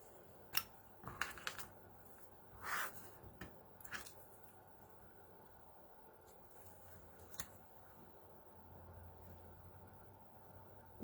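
An X-Acto craft knife slicing paper on a self-healing cutting mat: faint, short scratchy strokes and light taps, a few clustered near the start and others spaced out later, over a quiet room hiss.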